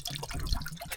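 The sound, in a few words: pouring water into a pot on a gas stove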